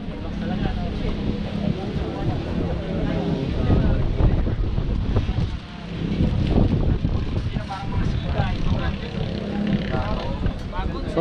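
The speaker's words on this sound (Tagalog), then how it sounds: "Mahangin ngayon, no?" Strong outdoor wind buffets the microphone with heavy, continuous low rumbling gusts that rise and fall, while people talk over it.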